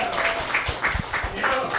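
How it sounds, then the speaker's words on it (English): An audience claps after a video screening at a live podcast conversation event, a steady wash of applause with a few low thumps, while a voice briefly sounds over it. "give another round of applause to that amazing fucking video"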